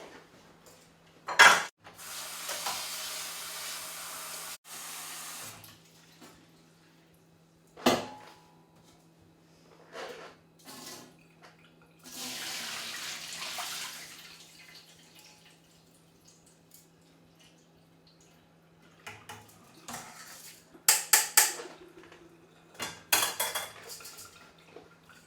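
Rice being washed in water in a pot: scattered clanks of the pot, sloshing and pouring water in separate bursts with quiet gaps, close by and without talk.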